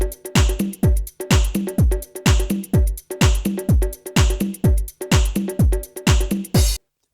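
A looping house drum pattern with a punchy kick on every beat and a bright classic snap sample on top, steady and loud, stopping abruptly near the end.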